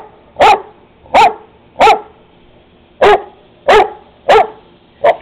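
A female dog barks loudly and repeatedly while wanting the garden hose, seven sharp close barks at a steady pace of roughly one every 0.7 seconds, with no talking.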